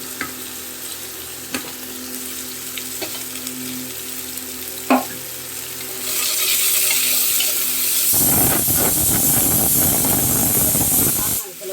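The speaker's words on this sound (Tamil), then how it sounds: "இப்போ இந்த வெங்காயத்தை போட்டுக்கலாம்." Sliced onions hit a hot pan for a non-veg lunch and burst into a loud hissing sizzle that swells and stays dense, after a quieter stretch of a few scattered utensil taps and soft kitchen background.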